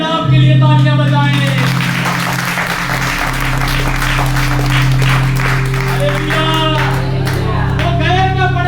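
Church congregation applauds with a broad wash of clapping and a few shouts, layered over a sustained low organ or keyboard drone, with a voice briefly heard near the end.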